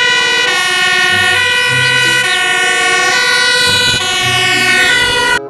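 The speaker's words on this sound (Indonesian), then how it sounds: "Wow, ini pemadam kebakaran." A toy fire engine's loud electronic siren wails continuously with rising and falling tones, toy-like and close, with a faint rumble underneath.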